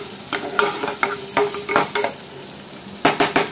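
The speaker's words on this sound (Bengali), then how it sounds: "এটা আবার একটু ভালোভাবে নেড়ে নিই।" A spoon scrapes and stirs grated coconut with yogurt frying in a pan, in irregular clacking strokes over a soft sizzle, close by.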